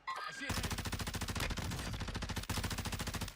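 Rapid automatic assault rifle fire in the video game Call of Duty Warzone 2, a dense, continuous rattle of shots lasting throughout with a brief break midway.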